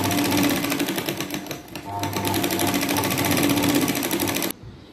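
A sewing machine runs steadily while stitching the back strip of a katori blouse, a loud continuous rapid whir with a brief dip in speed midway before stopping near the end.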